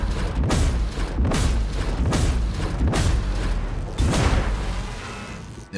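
Plasma gun fire in the video game Darktide lands as a series of about six heavy, booming shots at roughly even intervals, each with a deep thump and a hissing tail, loud and up close.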